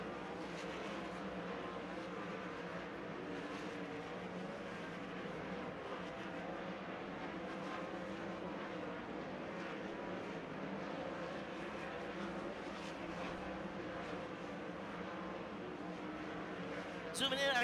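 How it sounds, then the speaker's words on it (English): Race cars accelerating on the Skagit Speedway dirt track at night during the Dirt Cup, a steady distant roar of many engines under a commentator talking. "green flag coming out, and our cars are rolling up to speed"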